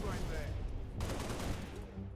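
Gunfire in Halo Reach, a loud, dense burst of rapid shots with booming low rumble throughout, and a voice faintly present underneath.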